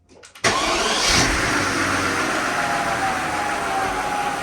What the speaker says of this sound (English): let's open the garage door and start the car.